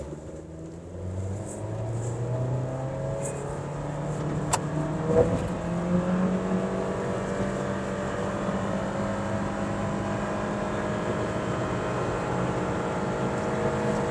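A Honda BR-V engine droning steadily during an acceleration pickup test, its tone rising slowly under a continuous broadband road rumble, heard from inside the cabin without speech.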